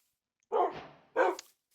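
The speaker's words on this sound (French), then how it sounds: "Donc on va pouvoir avoir un chien." A dog in the Minecraft game with the Doggy Talents mod gives two short, close barks in quick succession against silence.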